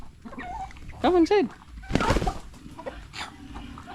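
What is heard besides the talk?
chickens clucking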